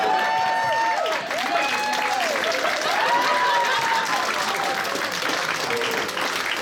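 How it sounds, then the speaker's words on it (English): Steady, dense applause from a convention crowd at a cosplay masquerade fills the whole stretch, loud and unbroken, with voices and cheers mixed in underneath. "Big round of applause to everyone who has taken part tonight."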